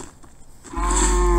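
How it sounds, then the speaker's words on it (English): A cow in the mobile game Minecraft Earth lets out a single loud, close moo that swells and holds steady to the end. "Hey, cow. Let's go pick up a cow."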